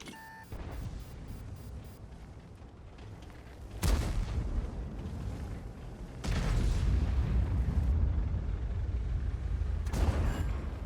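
A few heavy booming tank cannon shots from the video game World of Tanks, an AMX 30 B on the Paris map, with deep rumbling tails, spaced seconds apart, loud over a low ambient hum and an early short beep.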